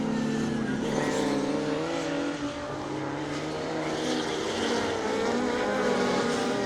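Rallycross race cars in the British Rallycross Championship at Croft, among them a Vauxhall, roar past on loose gravel, their engines making a dense, continuous, rising and falling growl from a moderate distance.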